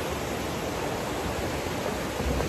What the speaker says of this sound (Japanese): 川の音もうるせえから